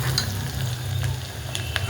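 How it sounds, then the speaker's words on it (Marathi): Onion, curry leaves and bay leaves fry in oil for black-masala rice while being stirred, a close steady sizzle with a low rumbling undertone and occasional spoon scrapes, no talking. "कांदा आपला छान असा फ्राय झालेला आहे."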